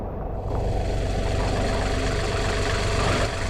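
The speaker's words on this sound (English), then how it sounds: "Look at the tractor." A tractor engine running during snow plowing in a snowstorm, a steady low rumbling drone that holds evenly throughout, fairly close with no talking.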